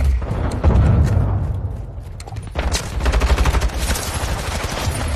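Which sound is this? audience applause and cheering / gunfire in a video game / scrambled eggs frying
gunfire in a video game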